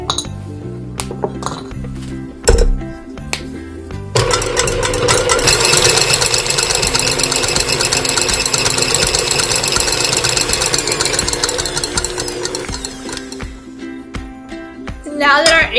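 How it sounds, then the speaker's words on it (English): An electric mixer whips egg whites on high, a loud, steady whirring drone that runs for about ten seconds after a few clinks and taps of the beaters against the bowl, then fades back to quieter clatter. "now we're just going to take the egg whites and beat them on high until they get fluffy"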